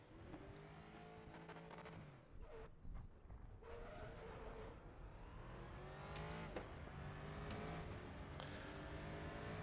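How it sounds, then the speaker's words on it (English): A GT3 race car on the Nürburgring Nordschleife in the RaceRoom racing game revs hard, its engine note climbing and dropping through gear changes in a continuous loud drone. "Listen to this engine, though."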